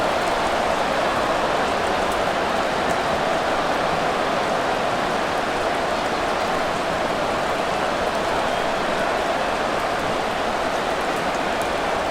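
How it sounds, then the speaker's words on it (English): Steady, heavy rain falls throughout a stadium football game in Madden NFL 24, an even, unbroken hiss with no voices. "The rain set to continue as we are underway in the second half."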